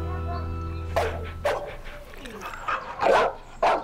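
A pitbull in a shelter barks a few times and whimpers, the loud yelps and barks coming in separate bursts over a steady low hum, fairly close.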